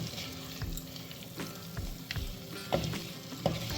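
Fresh cashews stirred in masala paste fry with a soft, steady sizzle, and a spoon scrapes the pan in intermittent clicks and bumps, close and quiet with no talk.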